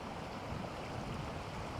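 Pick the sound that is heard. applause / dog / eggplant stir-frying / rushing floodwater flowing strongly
rushing floodwater flowing strongly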